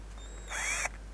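A Dedra 18V cordless drill with a metal bit drills into a steel profile. Its motor gives one brief, fairly close whine that rises in pitch and stops sharply after about a third of a second.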